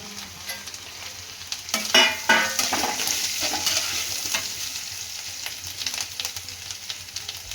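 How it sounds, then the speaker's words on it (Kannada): Capsicum frying and being stirred in a pan for a chutney, a steady sizzle with scraping stirs and a few louder clatters near the start, close and alone with no talk. "ಕ್ಯಾಪ್ಸಿಕಮ್ ಬೇಗ ಫ್ರೈ ಆಗುತ್ತೆ"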